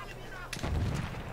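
Light machine gun fire in the first-person shooter Battlefield 1, a burst of loud, dense shots in infantry-only multiplayer combat, following a quieter stretch of game ambience.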